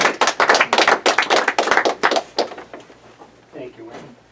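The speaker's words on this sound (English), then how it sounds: "give a round of applause for Hanneman" An audience applauds a performer on stage at a small theater, with a burst of quick rhythmic clapping that thins out and fades to quiet.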